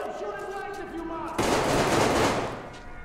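Mid-firefight with bandits in Metro Exodus, a sudden dense burst of rapid gunfire erupts loud and close, cutting in over a tonal hum and rattling on for over a second before tapering off.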